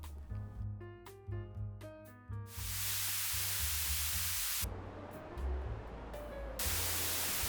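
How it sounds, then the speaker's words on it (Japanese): Hissing white noise played through a 2-way crossover filter with a 12 dB per octave slope, first as stepped bursts with a low rumble, then as a steady broadband wash that changes tone partway. "ホワイトノイズをこのフィルターに通すとこんな音になります。"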